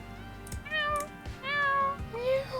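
A cat meows three times in a row, each call clear and drawn out with a short gap between, close by with a faint background hum.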